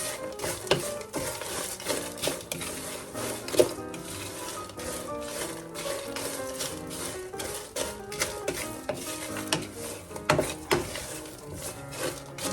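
Bok choy salad is tossed and stirred in a bowl, giving close, busy rustling and light scraping with small irregular clicks throughout.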